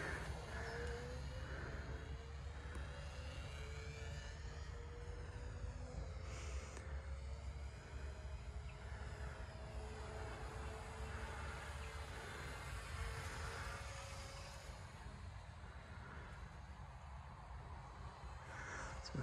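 A B-17G UMX model aircraft flying oval laps overhead, its small electric motor giving a faint, steady drone that rises and falls slightly as it passes, distant and continuous, with no voices.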